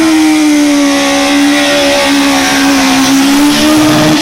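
A Peugeot 205 race car climbs the St-Ursanne–Les Rangiers hill-climb course, its engine holding a loud, steady high-revving note close by for the whole stretch, with no voices over it.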